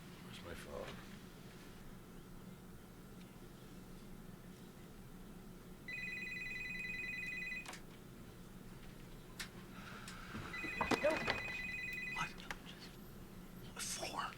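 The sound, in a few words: phone ringing during a call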